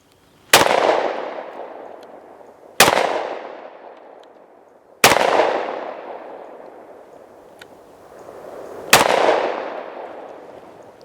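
Four loud, sharp gunshots from a Smith & Wesson M&P 2.0 10mm pistol firing Buffalo Bore 220-grain rounds outdoors, spaced unevenly about two seconds apart, each followed by a long ringing echo.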